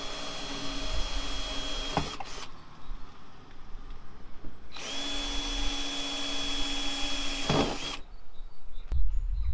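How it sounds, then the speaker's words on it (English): A power drill drilling and driving screws into a VW T5 van whirs in two long, steady bursts separated by a brief pause, with the motor droning close by and some workshop background noise. "all I'm going to do now is drill and screw"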